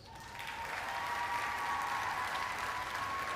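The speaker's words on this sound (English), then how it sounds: "please stand and give our teachers a round of applause" An audience at the 2021 MTC technical programs graduation ceremony applauds its teachers: the clapping swells in quickly, then holds as a dense, sustained round of applause with no talk over it.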